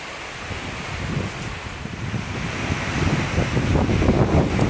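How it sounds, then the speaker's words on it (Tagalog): Steady rush of rain with wind buffeting the microphone, a dense continuous roar that swells slightly toward the end. "may dalang hangin ang ulan, kaso hindi lang malakas guys ba"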